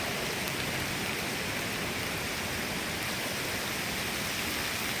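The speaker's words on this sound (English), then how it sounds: "Oh yeah, the rain is coming down." Heavy rain pours outdoors in strong wind, a dense, steady wash of hiss that fills the whole clip with no voices over it.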